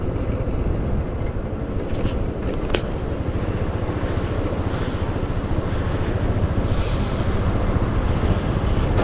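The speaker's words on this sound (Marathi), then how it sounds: "बघा कशी उसळून वाहत आहे शोक रिव्हर" The Shyok River rushing in turbulent spate beneath an iron bridge in Ladakh, a dense, loud, continuous roar mixed with wind buffeting the microphone, with no voices.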